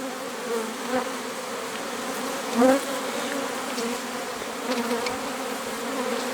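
Honeybees buzzing steadily as an autumn swarm walks into a hive, a dense, close hum with a brief louder swell partway through, no voices.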